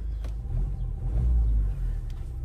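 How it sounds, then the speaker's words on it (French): A SsangYong Korando diesel engine running, giving a soft, muffled, truck-like idle: a steady low rumble close by, with no voices over it. "quand vous démarrez, vous avez un doux bruit de diesel"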